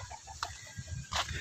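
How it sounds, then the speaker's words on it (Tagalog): A chicken clucks in short, soft bursts close by, with faint background noise and no talking. "May manok po"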